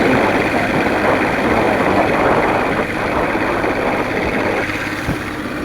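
A tractor engine runs steadily, loud and close, with a continuous low rumble and no talking.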